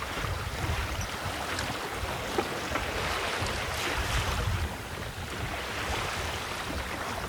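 A small single-handed trailer sailboat moving at about 3 knots through choppy slop at sunrise, after the wind has died, sits in a steady, dense wash of sloshing water and wind rumble with no voices.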